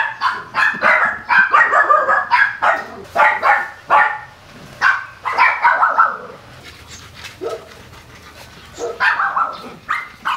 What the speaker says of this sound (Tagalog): tinatahulan nila ang mga Giants